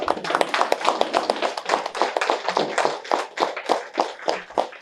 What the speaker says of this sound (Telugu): ఒకసారి మనందరం నిల్చొని గట్టిగా చప్పట్లు కొట్టాలి వీళ్ళకి, గట్టిగా